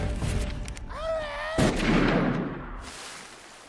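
Gunfire in a forest-set video game, a sharp shotgun-like blast ringing out after a whooshing swoop, followed by a decaying burst of noise, fairly loud against background game sound.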